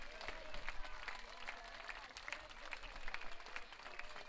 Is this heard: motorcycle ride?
no